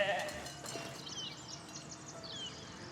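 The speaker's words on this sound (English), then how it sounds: "Baby sheep." A lamb in the farming and village-building game Foundation bleats faintly amid soft game ambience and distant bird chirps, a short high bleat near the start followed by quieter background sound.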